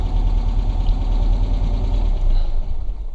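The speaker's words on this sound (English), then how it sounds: "Engine's also very ticky." A 1968 VW Type 3 engine with original fuel injection runs warm in a shop with the engine cover off, idling loud and close with a steady, rapid valve ticking over its low rumble.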